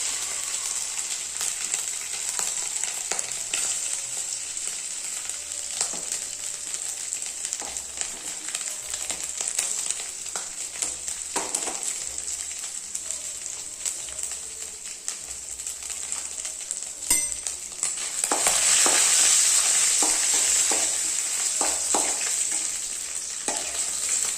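Eggplant and prawns sizzle steadily in a hot pan for about twenty-four seconds, with scraping stirs recurring throughout and a louder burst of frying toward the end, close up and with no talk.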